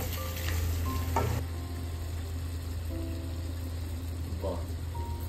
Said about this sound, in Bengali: বাহ, এবার এই মশলাটা দিয়ে কষিয়ে দেবো।